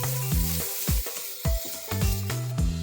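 A tomato puree and tikka masala mixture with garam masala sizzles in a pan, with a soft bubbling hiss broken by a rhythmic series of spoon strokes and scrapes, about two per second, close and moderately quiet, no voices.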